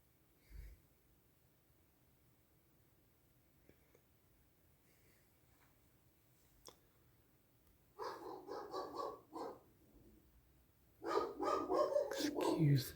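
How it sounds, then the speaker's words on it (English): A dog barks indoors toward someone at the door in two loud bursts of rapid barking, the first around the middle and the second near the end, after a long stretch of near silence with a few faint knocks. "Excuse the dog"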